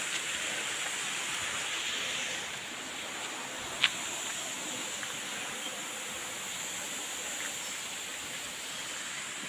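A mountain stream flows steadily at a fishing spot, a soft constant rush of water heard alone at low level, with one faint brief click partway through.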